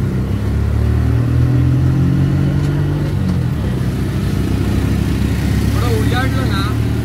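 An auto rickshaw engine runs on the Mumbai-Goa road, a loud, steady, low drone that continues throughout with no pauses.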